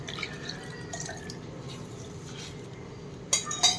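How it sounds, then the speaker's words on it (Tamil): Water is poured into a claypot of fish gravy, a soft continuous trickling and splashing, quiet and close, ending with a few sharp clinks of the pot. "அதை நல்லா கிளறி விட்டுட்டு தேவையான அளவு தண்ணி ஊற்றிடுங்க."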